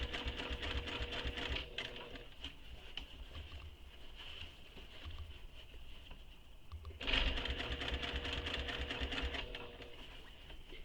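A sewing machine stitches a crossbody bag panel in steady whirring runs, pausing briefly before starting up again a little louder, close and alone.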